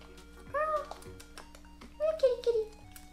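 A house cat meows twice, close by, with drawn-out rising and falling cries separated by a short pause, over low background hum.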